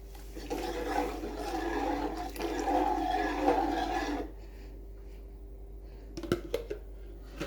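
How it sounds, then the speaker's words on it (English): A thick cornmeal mixture pours steadily into a pot for about four seconds, then stops, leaving near-quiet with a couple of small clinks and taps. "Now we're gonna pour it in the pot."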